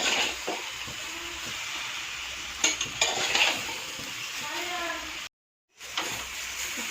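Mango pickle fries in a pan on a gas stove, producing a continuous close sizzle with clinks of a utensil against the pan and scraping stirs. A brief dropout of total silence occurs near the end, and a voice talks faintly underneath.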